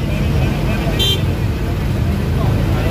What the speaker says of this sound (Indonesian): Dua bus tiba bersamaan, bus Jaya